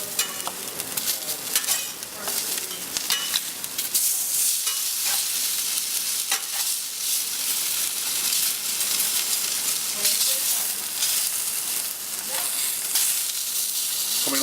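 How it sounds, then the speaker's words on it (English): Ham, tomatoes and mushrooms sizzle and fry on a Eurostoves Culinarian griddle, a steady close hiss with scattered crackles and a few utensil scrapes throughout. "We'll drop the ham on. Tomatoes. Mushrooms, and we'll just let that roll for a second or two."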